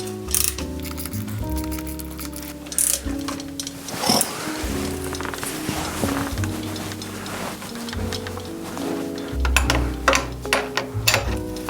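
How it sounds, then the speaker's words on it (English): A wrench tightens a bolt on a rack mounted to a vintage Trek 950 touring bike, giving a continuous run of rapid ratcheting clicks in short bursts, close and fairly loud, with no talking. "I should have my wrench ready to go."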